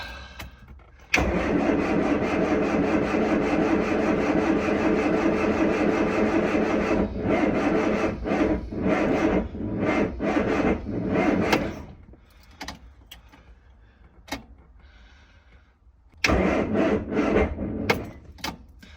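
A classic car engine, choke out, cranks and catches, then runs roughly at a steady idle for several seconds before stuttering, cutting out, and being cranked again.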